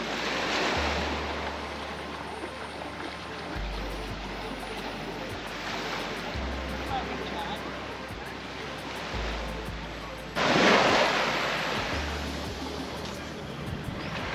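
Ocean surf rolls and washes continuously on Kata Beach in Phuket, Thailand, with a louder breaking wave midway and a low engine-like hum running underneath.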